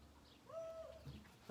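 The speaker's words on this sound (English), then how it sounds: "I heard an owl howling." Faint owl hooting drifts in from a distance outdoors, one soft, drawn-out call over low background hum and quiet ambient noise.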